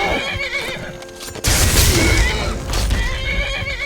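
A horse whinnies loudly in a rising, shrill neigh, followed by rumbling hoofbeats and action noise from the Skyrim game soundtrack during a fight with bandits.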